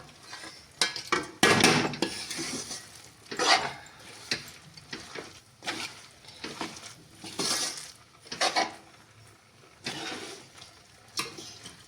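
A spatula scrapes and clanks repeatedly against a kadai as a dry fruit barfi mixture is stirred, with irregular bursts of metallic scraping and knocking, close and fairly loud, no voices.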